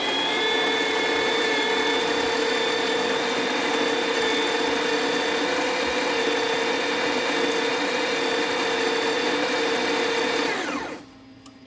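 De'Longhi Magnifica espresso machine pulling a double shot, a loud steady pump hum and whine held for about ten seconds before cutting off abruptly into quiet.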